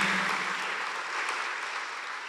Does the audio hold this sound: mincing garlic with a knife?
no